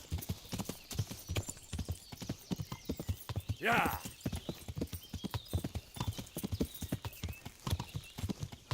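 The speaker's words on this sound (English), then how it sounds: "why are these horses all still here?" Steady clip-clop of horse hooves in the video game Kingdom Come: Deliverance, with a brief whinny midway, under near-continuous talking.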